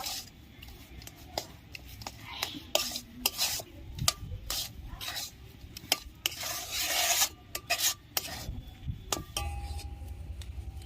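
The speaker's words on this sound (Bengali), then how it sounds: "আমি সুজিটাকে নেড়ে নেড়ে একটা শক্ত ডো তৈরি করে নেব।" Semolina is stirred into a stiff dough over low heat, giving loud, rhythmic scraping and rasping strokes of a spatula against the pan, close up, with no talk.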